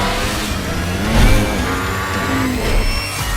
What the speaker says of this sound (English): the V4S unique firing order makes it sound like a particularly evil Ducati.